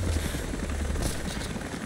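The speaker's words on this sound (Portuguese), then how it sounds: "O helicóptero não desliga os rotores." Helicopter rotors running in the video game Rise of the Tomb Raider, with a steady, close, continuous thumping whir.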